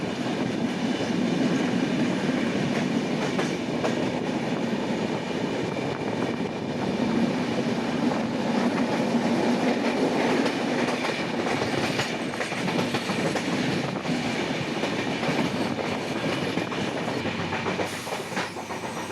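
A passenger train from Sealdah toward Siliguri rolling through Dum Dum Junction, heard from inside as a continuous loud rumble with rhythmic wheel clatter and track noise throughout, no voices.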